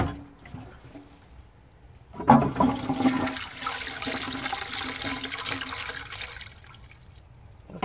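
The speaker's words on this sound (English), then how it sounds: "So yeah, first flush." An old bell syphon cistern flushes through its original flush pipe, starting with a loud rushing surge of water that settles into a steady gurgling flow and then trails off toward the end.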